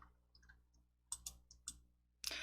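Mouse clicks on a title shape in PowerPoint, a few quiet, crisp clicks spaced irregularly, close and faint against near silence.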